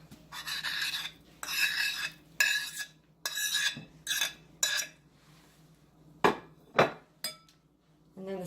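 Bananas being mashed for pancakes with a utensil against a bowl: a series of separate scraping, clattering bursts, fairly close, spaced about a second apart, with sharper knocks near the end.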